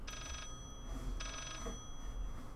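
Two bursts of a telephone bell ringing in the horror video game Layers of Fear, each a rapid electronic trill about half a second long, separated by a pause over a quiet ambient background.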